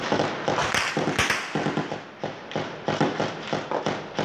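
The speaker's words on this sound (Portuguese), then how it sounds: "Rajadas de fuzil eram ouvidas a todo momento" Rapid bursts of rifle gunfire crack repeatedly in quick succession in Rocinha, Rio de Janeiro, loud and sharp with short gaps between volleys.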